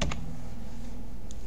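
A few quick keystrokes on a computer keyboard at the start, then a low steady hum with one more faint click near the end; close and clear, no talk.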